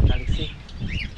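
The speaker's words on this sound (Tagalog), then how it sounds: "Okay lang naman yung mga ibon natin dito." Birds kept in a bunker chirp and tweet in short bursts, close and fairly loud, over a low murmur of background noise and nearby talk.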